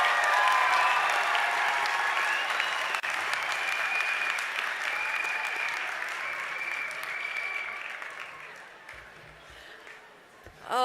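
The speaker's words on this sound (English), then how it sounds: "Now let's give all of our honors graduates a rousing round of applause." Audience applause honoring graduates at a winter commencement ceremony, a sustained, dense wash of many hands clapping that holds steady for about nine seconds before thinning and tapering off near the end.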